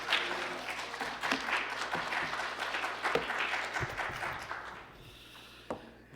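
Congregation at a Sunday morning church service applauding to welcome a pastor, a moderately loud, scattered patter of many hands with distinct individual claps, fading and thinning out toward the end.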